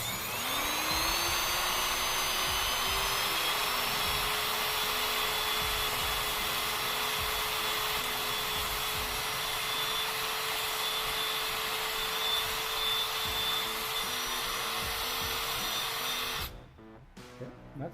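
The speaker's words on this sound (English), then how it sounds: "we've done a little grinding now" A power grinder works steadily on a metal door strike plate, a loud continuous whine holding a constant pitch for about sixteen seconds before it cuts off and spins down at the end.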